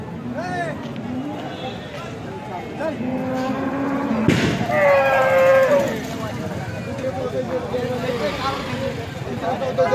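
Cows at a cattle market in Alephata, with low lowing calls rising through the general bustle and a loud thud midway, while people talk throughout.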